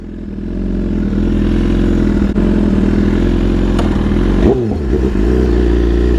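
A BMW motorcycle pulls away from a stop, its engine note loud and steady with harmonic rumble, then shifting and revving briefly near the end as it gains speed.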